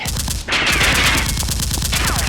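A rapid burst of podcast drama gunfire crackles over continuous noise, with sharp repeated shots in a steady rhythm close by.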